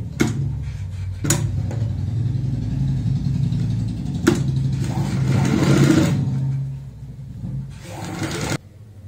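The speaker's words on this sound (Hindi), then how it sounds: "इसको पलट लेंगे एक सिलाई ऊपर से लगा देंगे ताकि पक्का रहे" A sewing machine topstitching a capri seam, running in several bursts of whirring motor noise that speed up and slow down, broken by sharp clicks and short pauses, close and fairly loud.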